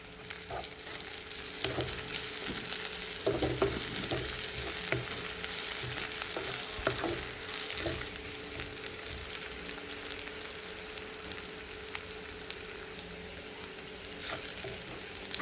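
Onions, ginger and garlic fry in a pan for chicken curry, a steady close sizzle throughout with occasional louder crackles and scraping stirs, no talking.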